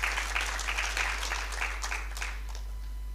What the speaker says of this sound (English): So I think we need to give you a big clap for coming to join us this afternoon.